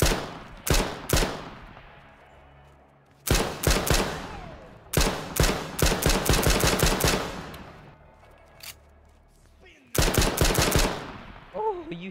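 Gunfire in the battle royale video game H1Z1, with loud close bursts of rapid automatic shots and single cracks in several clusters separated by quiet gaps.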